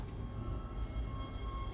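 A tram pulls into a station in the game Dead Space, a low rolling rumble with a faint mechanical hum, steady and moderately loud throughout a short stretch.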